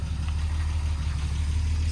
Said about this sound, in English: here she is outside, so you can see her stance, and with the engine running.